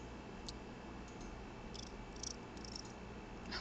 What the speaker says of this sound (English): I love that we can hear the purring